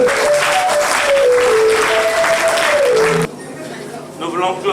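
Congregation at a wedding service breaks into loud, dense applause and acclaim that fills the room for about three seconds, then drops abruptly to a quieter hall with voices.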